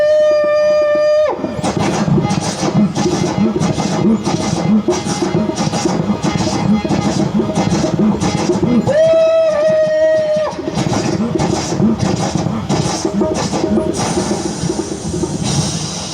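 An engine runs with a loud, regular rhythmic chugging pulse throughout, broken by two sustained horn-like tones near the start and middle.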